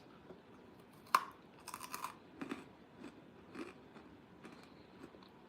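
Someone bites into a crunchy freeze-dried banana with one sharp, close crack. Quieter crunching chews follow in an uneven rhythm, with no talk.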